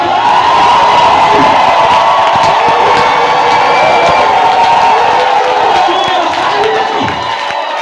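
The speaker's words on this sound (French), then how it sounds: "Ils ont des cris de joie." A large crowd at a French-language religious gathering shouts and cheers with joy, a loud continuous roar of whoops and voices that stays strong throughout and eases slightly near the end.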